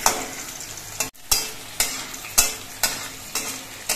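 Spiced chicken being stirred and fried in a pan with plenty of chilli, giving a steady close sizzle broken by about seven sharp scraping stirs at fairly regular intervals, with one brief pause.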